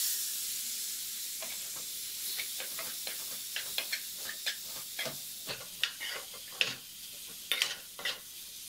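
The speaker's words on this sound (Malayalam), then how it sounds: "നമുക്കിനി ഇതിലേക്ക് നമ്മുടെ മാങ്ങയിഞ്ചിയും അതേപോലെ തന്നെ പച്ചമാങ്ങി ഇട്ട് കൊടുക്കാം." Chopped raw mango and mango ginger are stirred into hot pickle masala in a pan. A soft sizzle hisses throughout, with irregular light scrapes and clicks of the spoon that grow busier toward the end.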